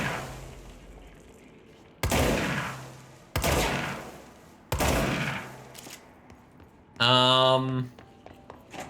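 Gunshots in the video game Control: three sharp, loud shots spaced over a couple of seconds, each with a short decaying tail, followed by a brief tonal sound.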